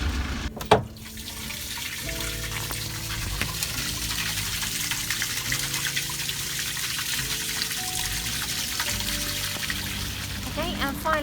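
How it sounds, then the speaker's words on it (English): Grey water drains from the underside tank of a Rollerteam Zefiro 690 Ford Transit motorhome, a steady rushing splash with a sharp clunk near the start as the handle is pulled. "When I pull this handle, all the water's going to come out from underneath."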